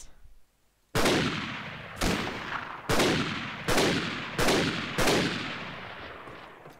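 Six rifle gunshots in Mount & Blade: Warband set in the 1860s American era, sharp loud cracks spaced about a second apart, each trailing into a short echoing decay, with no voices.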